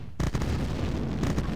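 A power plant blows up in Command & Conquer, a sudden loud explosive burst followed by a sustained rumbling crackle, with a second blast surging near the end.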